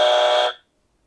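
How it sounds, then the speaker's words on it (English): Quiz buzzer on a podcast quiz show sounds once, a loud harsh electronic tone lasting about half a second before cutting off into silence. "Let's test your buzzer again."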